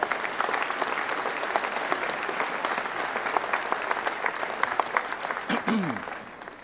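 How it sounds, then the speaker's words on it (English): Steady applause from an audience at a rostrum welcoming a reverend, dense and even throughout before tapering at the end, with a brief voice near the close. "Let's bring him to the rostrum with a round of applause."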